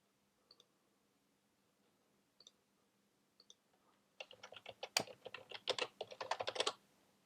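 A few scattered, faint key taps on a computer keyboard give way to a quick, dense burst of close typing with crisp, irregular clicks, with no voices.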